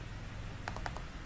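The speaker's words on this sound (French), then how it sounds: "Là, je clique" Quick clicks of a computer mouse while working in a spreadsheet, four light taps in a fast cluster over a faint steady background hiss, close and soft with no talking.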